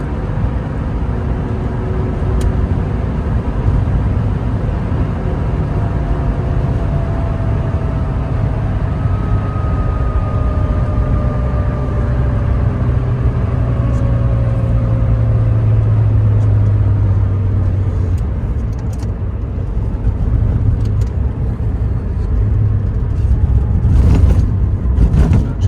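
A 1983 Porsche 911SC coupe with an SSI exhaust, heard from inside while driving: a steady low engine drone and road rumble throughout, with gentle pitch shifts as revs change through gears and a brief louder swell near the end.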